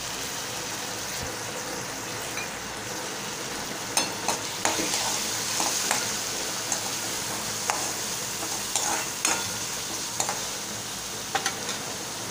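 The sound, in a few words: onion and moong dal frying in a pan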